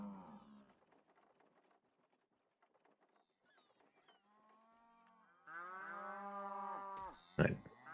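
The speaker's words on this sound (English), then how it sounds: "That's 2 cows." Cattle low on a farm in the strategy game Anno 1503: a faint moo at first, quiet bird calls, then a louder drawn-out moo near the end over soft ambience and a sharp click.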